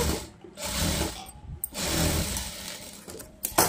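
Sewing machine stitching a boat-neck blouse in a tailoring class, running in short bursts with brief pauses between them, close and moderately loud, with no talking.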